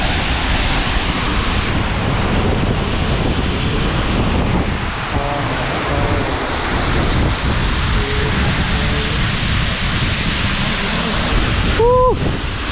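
Kadamagundi waterfall in Karnataka pours and splashes in a continuous, loud broadband roar up close, with brief voices talking faintly over the rushing water.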